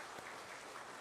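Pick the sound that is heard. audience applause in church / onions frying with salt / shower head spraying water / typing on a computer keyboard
audience applause in church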